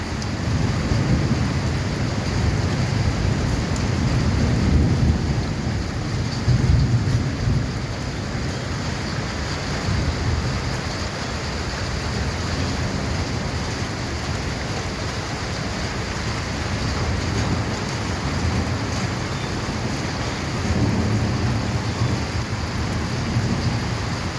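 Steady, heavy rainfall roars continuously, with deep rumbles of thunder rolling underneath in the low end throughout.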